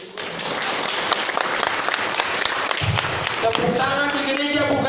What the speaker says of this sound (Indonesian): Boleh tepuk tangan di sini?